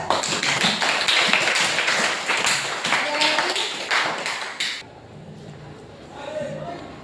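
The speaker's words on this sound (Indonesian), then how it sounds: "Oke, terima kasih, beri aplaus" A classroom group applauding after a student presentation, dense steady clapping for several seconds that stops abruptly, with faint voices lingering afterward.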